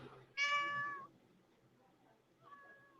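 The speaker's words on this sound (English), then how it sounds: "cat meows." A house cat gives one loud, drawn-out meow lasting about half a second, then a fainter, shorter meow follows a moment later against a quiet room background.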